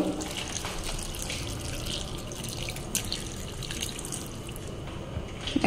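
Hot water poured over kokum in a container, a steady splashing liquid stream running continuously at moderate volume, close by, with no voices.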